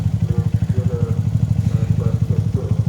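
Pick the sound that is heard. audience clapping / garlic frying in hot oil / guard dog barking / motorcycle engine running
motorcycle engine running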